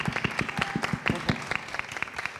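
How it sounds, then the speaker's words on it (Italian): Audience at a festival talk applauding a guest as she enters, a small group's sharp, fairly distinct claps in a quick irregular patter, close and clear. "accogliamola con un applauso"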